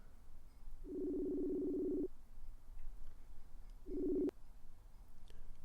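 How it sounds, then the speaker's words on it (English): A call-in show's phone line rings with two long, steady electronic tones separated by a pause. Each burst is clear against a quiet line hiss and no one speaks. "It's ringing."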